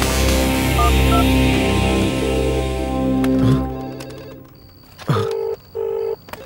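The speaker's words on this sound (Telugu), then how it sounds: "అవును, ఇక్కడే ఇక్కడ పక్కన రింగ్ అవుతుంది." A telephone rings close by in a film scene: a droning musical passage fades out, then two short electronic ring bursts sound clearly against near silence.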